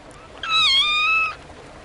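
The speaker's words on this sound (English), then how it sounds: "Oh, the poor little kitten." A tiny, wet, lost kitten at a doorway lets out one loud, drawn-out meow lasting nearly a second, close and clear against a quiet background.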